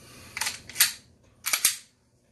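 Two pairs of sharp, dry mechanical clicks from pistol dry-fire practice with no live round, each pair close and crisp with a brief ring-off, separated by about a second of near silence.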